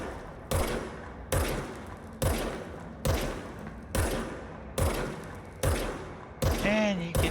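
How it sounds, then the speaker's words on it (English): Gunfire from the player's weapon in the video game Control, eight loud, sharp shots about one second apart, each trailing off into a ringing decay, with a brief voice right at the end. "you get to see my horrible noob shooting"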